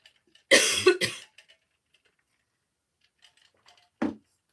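A person coughs twice in quick succession close to the microphone, followed by near silence and then one short softer cough or throat sound.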